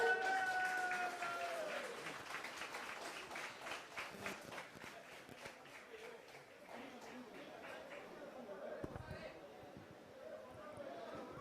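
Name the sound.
audience applause at a political rally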